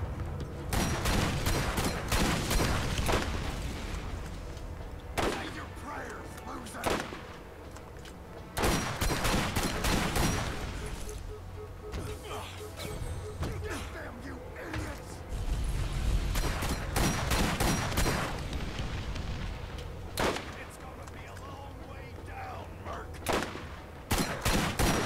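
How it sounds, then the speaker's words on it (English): A gun in Borderlands firing exploding bullets, bursts of rapid loud shots and blasts in repeated volleys with short pauses between them, under occasional talk. "shooting his gun fires bullets that explode"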